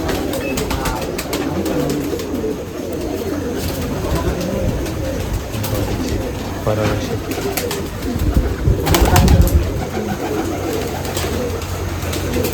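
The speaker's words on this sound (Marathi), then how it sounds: "एकच लाईन मधले कबूतर यांचे परत" Pigeons at a pigeon festival in Nashik coo and flutter in a busy outdoor crowd, with bird calls repeating over steady background chatter and voices. Wing claps flare up briefly near the end.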